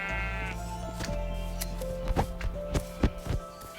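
Sheep in the video game Minecraft bleat several times, a wavering nasal call over a low steady hum, followed by soft tapping footstep sounds, close and clear.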